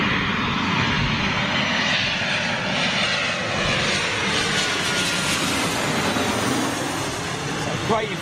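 An Embraer ERJ jet airliner flying for British Airways, formerly with China Southern, near London City airport, giving a loud, steady roar of jet engines that holds for several seconds without a break.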